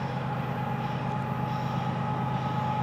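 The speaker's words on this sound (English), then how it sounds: "496 axles on this train" Freight train FEC202, a long train of 496 axles, rolls past at sunrise with a continuous, moderately loud low rumble and a steady mechanical hum, with no talking.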